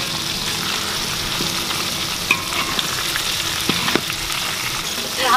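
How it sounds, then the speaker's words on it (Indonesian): Chili peppers sizzle and fry in a hot pan with oil, a steady crackling hiss throughout with a few sharper pops and stirring clinks, close and alone without talk. "Kita goreng dulu cabai-cabainya."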